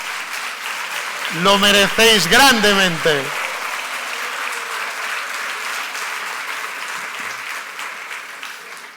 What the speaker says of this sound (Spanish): quería empezar dándoos un fuerte aplauso